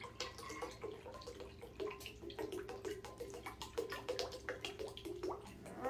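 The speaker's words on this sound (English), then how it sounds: "So you gotta put a liter of club soda." Club soda pours into a punch bowl with a steady, close liquid splashing and trickling, broken by small drips and gurgles throughout, with no talking over it.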